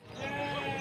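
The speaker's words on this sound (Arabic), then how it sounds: "اخوان هادو خرفان كسابين" A single sheep bleats at an outdoor livestock market in Sidi El Aidi, Settat province, one drawn-out, moderately loud call over a faint murmur of the crowd.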